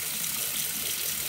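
Running tap water gushes steadily while mochi squishies are washed, a continuous close hiss of flowing water from a faucet with no talking.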